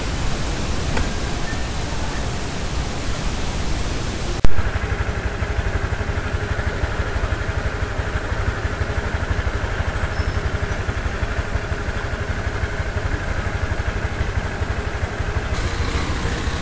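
Honda Click 125 V3 scooter engine idling steadily after a CVT repair, a dense continuous mechanical whir and buzz with a slight change in tone a few seconds in, close and unbroken by speech.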